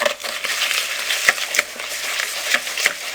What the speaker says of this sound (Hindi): इतना अच्छे तरीके से बीट करें कि अंडे और चीनी एक हो जाएं